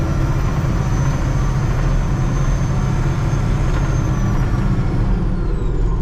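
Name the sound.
Caterpillar 966D wheel loader engine running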